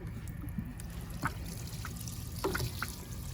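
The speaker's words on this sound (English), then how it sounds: "I'll just give this a quick good soak of this fertilizer here" Fertilizer solution is poured to soak the soil in a large planted container, a soft trickle and splash of liquid heard up close and fairly quietly, with no voices.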